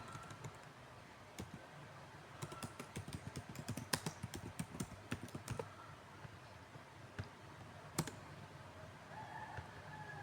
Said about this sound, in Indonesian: Setelah itu saya mengetik judulnya.